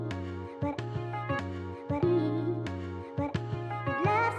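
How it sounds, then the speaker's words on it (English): A hip hop beat built on a sampled soul-style loop processed with RC20 vintage coloration, with steady punchy drums and sustained tonal sample chords repeating in a regular rhythm, played loud and alone. "And with RC20 engaged, it sounds like this."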